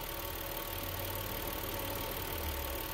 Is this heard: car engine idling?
yes